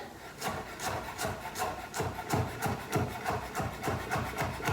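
A knife dicing garlic on a cutting board makes quick, evenly spaced chopping taps, close and crisp, repeating steadily for several seconds without talk.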